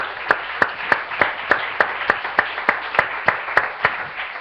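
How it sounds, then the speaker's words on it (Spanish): Congregation in a church clapping in a steady, evenly spaced rhythm, each clap sharp and distinct, with no talk over it. "Démosle un aplauso al Señor."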